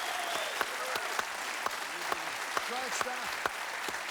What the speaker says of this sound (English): Let's give a big round of applause for the Miller Madden family.